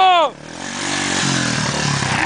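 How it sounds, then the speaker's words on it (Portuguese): A motorcycle rides past on a grassy field, its engine buzzing steadily and growing louder over about two seconds after a brief high-pitched whine at the start. "A moto do Jonas, ó."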